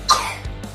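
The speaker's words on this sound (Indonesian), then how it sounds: "Iya, lagi batuk juga." A small child coughs once, close and fairly loud, with a short rough burst followed by a quieter breathy trailing sound.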